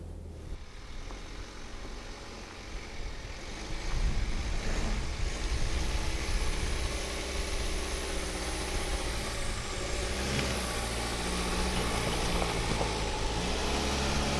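A BMW X1 xDrive climbs a steep off-road slope, its engine humming low and steady, then rising in load and effort about four seconds in and straining continuously with some rumbling and knocks.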